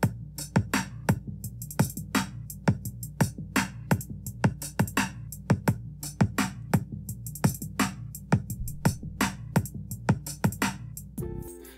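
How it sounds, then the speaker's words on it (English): Programmed drum beat for a song with extra hi-hats added: a bouncy pattern of kick hits and crisp, ticking hats repeating steadily, loud and clear with no voices. "So I added some more hats,"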